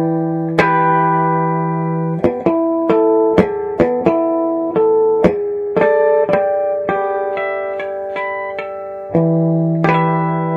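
Guitar harmonics ring out through a Visual Sound Pony combo amp with a touch of reverb, a dozen or so bell-like chimed notes plucked one after another and left to sustain and overlap, clear and close with no talking.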